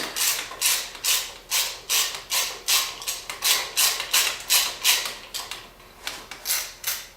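A hand ratchet turning on radiator brace bolts of a 2012 Yamaha WR450F motorcycle, with a rapid series of crisp clicking strokes close by and brief pauses between bursts, no talking.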